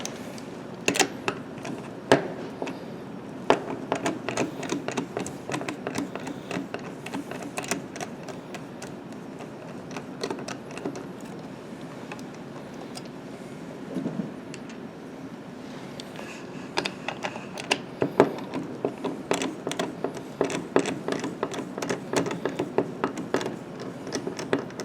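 Screws being unscrewed from an Ibanez TS7 Tube Screamer guitar pedal, a long series of small, close clicks and ratcheting ticks in irregular bursts, with no talking.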